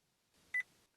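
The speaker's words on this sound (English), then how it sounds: "until you hear that beep," A short, faint electronic dashboard beep in a Vauxhall Corsa D confirming secret-menu settings, a brief double tone followed by a tiny chirp, in near silence.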